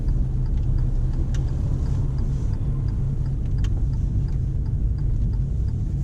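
A car with a learner driver turns into a car park for a reverse bay parking manoeuvre, its engine a steady low rumble at close range with faint tyre and road noise and no speech.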